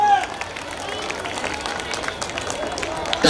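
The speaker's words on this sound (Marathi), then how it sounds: "जरा टाळ्या होऊन जाऊ दे की." Crowd applause at an outdoor Kokan cultural festival stage in Kurla Kalina, Mumbai: steady, dense clapping and crowd noise sustained throughout, fairly loud and continuous, with a brief sharper burst at the very end.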